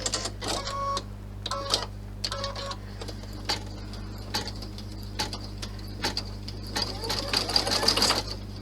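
A home sewing machine satin-stitches a bow purse in quick rhythmic bursts, loud and close, with short pauses between runs and a faint steady hum underneath.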